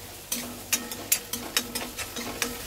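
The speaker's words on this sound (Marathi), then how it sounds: "इथं मी मोठा घेतलाय कांदा, आणि आता हे परतून घेऊया आपण" Chopped onion and green chillies frying in a pan over high heat, a low continuous sizzle broken by a series of crisp, rhythmic spatula scrapes and taps, close and fairly loud with no voices.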